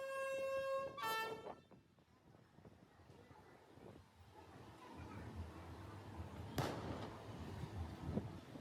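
Railway station ambience on arrival, with a distant train horn sounding at the start, a sharp bang midway and a steady rumbling crowd and platform bustle throughout, fairly faint overall.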